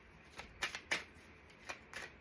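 Playing cards shuffled by hand in a few quick riffling bursts, crisp and close, with short pauses between each pass and no talking.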